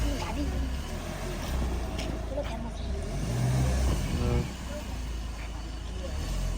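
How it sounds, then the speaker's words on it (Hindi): A car stuck in mud revs hard while working itself free, a continuous low engine roar with surging strain that fades slightly near the end, with voices talking over it. "बड़ी मुश्किल से गाड़ी निकली है।"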